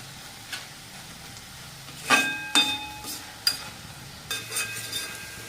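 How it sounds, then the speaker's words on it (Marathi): Methi (fenugreek) greens in hot oil being stirred for a Marathi-style bhaji, with a soft steady sizzle broken by several sharp clanks and scrapes of the spoon against the pan. "तेल टाकल्यापासून पुढं आपल्याला असे मस्त त्याला हलवून घ्यायचे थोडंसं"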